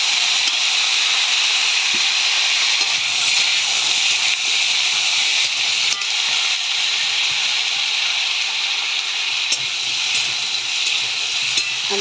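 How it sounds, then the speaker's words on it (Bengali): Potatoes fry in a pan over a clay stove, a steady loud sizzle and hiss that carries on without a break, with a few faint stirring clicks under it. "আলুগুলো লাল লাল করে ভাজছি।"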